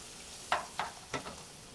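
A grilled cheese sandwich frying in a pan gives a soft, quiet sizzle, broken by three or four sharp, brief taps close by.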